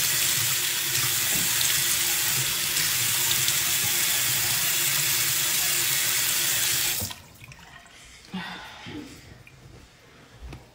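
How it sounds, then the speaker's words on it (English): Tap water runs hard and steady into a sink while a face is rinsed, a loud, close rushing that cuts off abruptly after about seven seconds, leaving quieter dripping and handling sounds. "So I usually use one and some water together, rinse my face."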